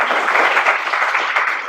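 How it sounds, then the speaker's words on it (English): A short burst of applause from a tech meetup audience in Toronto, dense clapping that holds steady for under two seconds. "Can we get a round of applause for Christian?"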